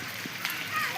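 Heavy water pouring down and splashing at an outdoor album shoot, a steady broadband hiss with brief splatters throughout the short moment.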